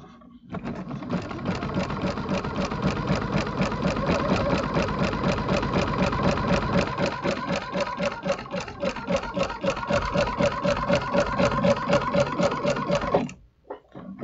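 A sewing machine fitted with a walking foot stitches through a quilt in one long continuous run of rapid, even mechanical chatter lasting about thirteen seconds, close up, then stops abruptly.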